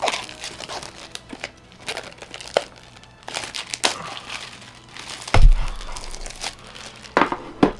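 Cardboard and plastic packaging of a Fox and the Hound Blu-Ray collection crinkles and tears in bursts of close handling, with scattered crunches and a soft thud midway.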